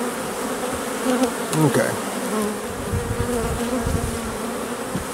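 Honeybees drone loudly and steadily at an open hive that is crowded and ready to swarm. A dense, close hum fills the whole clip, and a brief spoken word comes at one point.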